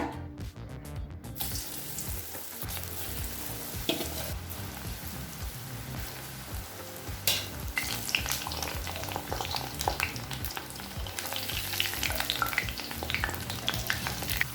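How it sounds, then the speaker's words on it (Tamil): Hot oil sizzles and crackles steadily for a long stretch as elephant foot yam fries over a medium flame, with occasional clinks of stirring. "நம்ம சேனக்கிழங்கு எண்ணெயில் போட்டு பொரிக்க ஆரம்பிச்சிடலாம்."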